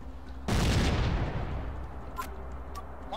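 A grenade blast in the Rogue Trooper video game bursts in suddenly as a loud, broadband boom, then rumbles and decays over several seconds, with a couple of faint sharp clicks afterward.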